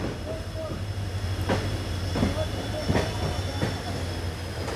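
Mangaluru–Bengaluru passenger train, hauled by a pair of WDG 4G diesel locomotives, rolling steadily with a constant low rumble, a few sharp wheel clicks and faint squeals close by inside a coach.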